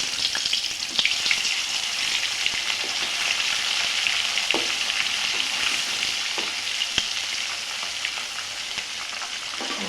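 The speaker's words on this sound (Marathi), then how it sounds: "असे छान मासे तळून घेऊयात आपण." Chilapi fish pieces fry in hot oil, giving a continuous loud sizzle with scattered crackles and pops, heard up close and alone.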